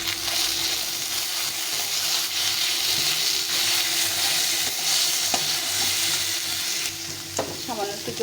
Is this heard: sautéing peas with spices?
yes